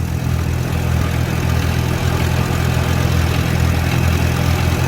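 Farmall B tractor engine running steadily in second gear while cultivating with tender plant hoes, a loud, even low rumble and throb held close throughout with no talk.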